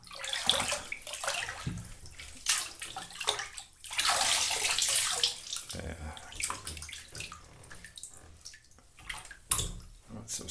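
Water splashes and pours in a bathtub during hair washing, close and intermittent with sloshing and dripping bursts, while a voice speaks softly over it.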